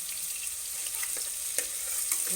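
Onion browning in a pan for a village-style chicken curry gives off a steady, fairly quiet hiss of frying, with a couple of faint utensil taps and no voices.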